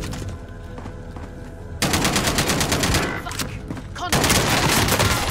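Rapid automatic gunfire from a PPSh submachine gun in a video game, sustained bursts that grow louder partway through, with game sound and a voice underneath.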